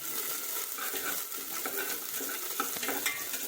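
Onions sautéing in a pan for coconut rice and chicken curry, a steady hiss of frying with soft utensil stirring scrapes throughout, no talk.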